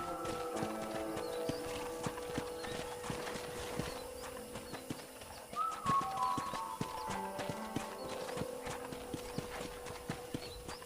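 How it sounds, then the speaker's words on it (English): Horse hooves clip-clop steadily in Red Dead Redemption as a rider moves along at a walking pace, a rhythmic, moderately close patter over faint ambient game sound, with a brief whinny partway through. "let's see if you can still ride a horse"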